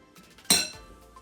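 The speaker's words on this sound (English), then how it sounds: "Now I'm gonna put my diced chicken in my glass bowl." Diced chicken dropped into a glass bowl, landing in a single sharp clink of glass with a short ringing tail, close up and on its own.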